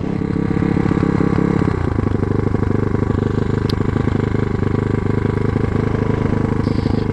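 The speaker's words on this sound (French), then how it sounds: "c'est une moto, tu sais, chinoise" A Chinese motorcycle engine idles steadily nearby, a low rhythmic chugging with a slight clatter, holding an even pitch throughout.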